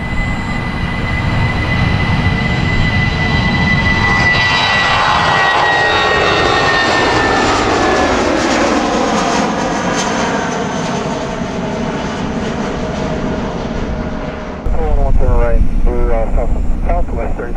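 Jet airliner engines roar loudly at Orlando International Airport as a plane spools up and passes, a sustained rumbling whine with a shifting pitch sweep, and radio chatter sits under it.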